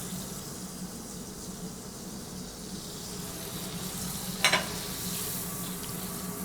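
Butter and cold pressed rapeseed oil sizzle steadily in a heavy frying pan, a continuous soft hiss with a brief sharper crackle partway through.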